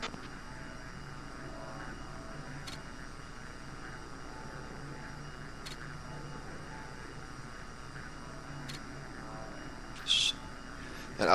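A-10 jet aircraft taxiing toward the runway in a flight video game, a steady low engine drone running throughout with a few faint clicks and a brief brighter burst near the end.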